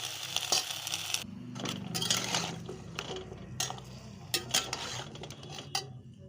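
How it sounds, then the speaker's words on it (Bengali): A metal spoon stirs chopped bottle gourd in a cooking pan, with scraping, clinking strokes in an uneven rhythm and brief pauses, close and moderately loud with no talking. "লাউটা দেওয়া হয়ে গেছে, আমি একটু নাড়িয়ে চাড়িয়ে নেব।"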